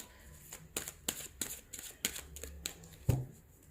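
Tarot cards being shuffled by hand up close, a quick run of crisp papery riffles and flicks in irregular bursts, soft and alone with a small thump near the end.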